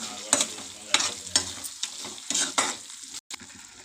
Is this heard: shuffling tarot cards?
no